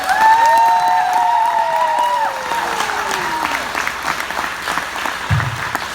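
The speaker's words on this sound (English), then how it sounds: "So if we could give this woman a round of applause for her." Applause from an audience at the Sneaker Soirée keynote, mixed with whoops and whistle-like cheers. It rises at the start and carries on as steady clapping, with a few voices over it.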